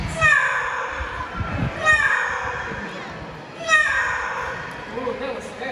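A parrot at a bird park amphitheatre show imitates a cat, giving several drawn-out, meow-like harmonic calls in a row. Crowd murmur and voices sit underneath the calls.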